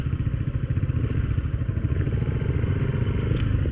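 A motorcycle rolls slowly over a rough, rocky dirt road on a farm area, its engine puttering steadily under continuous clatter and scraping from stones beneath the tires.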